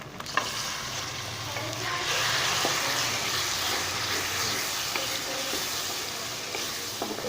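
Tomatoes frying in a pan with garlic tempering, a constant crackling hiss with occasional faint clinks, no voices.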